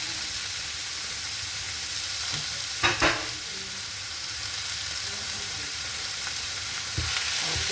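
Ground beef sizzles and fries in a pan with a constant, close, hissing crackle, broken by a couple of brief clatters of stirring, and no talking.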